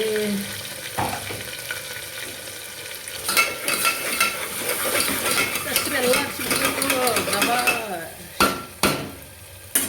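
Small onion being stirred and fried in a pan for a Kannada mung bean sabzi: crackling sizzle under repeated scraping and clinking of a spoon against the metal pan, with several sharp knocks near the end.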